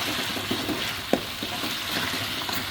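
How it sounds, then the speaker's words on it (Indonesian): Fried chili sambal for eel sizzles steadily in a pan while being stirred, with a constant frying hiss broken by a few scraping, stirring knocks close by. "Dan ini sambal gorengnya ya, sedang diaduk."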